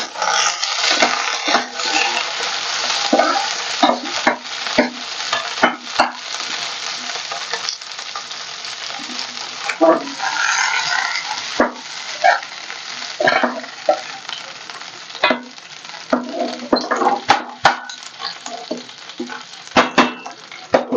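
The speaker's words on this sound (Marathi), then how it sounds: "आता आपण हे ना त्या मिरच्या हलवून घेऊया" Green chillies for a dahi mirchi dish are stirred in a pan. Busy scraping and clattering of a utensil against the metal sits over a continuous close frying sizzle throughout, with no one talking.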